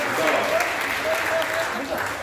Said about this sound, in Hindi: एक बार सारे लोग मुझे तालियां बजाकर बताएं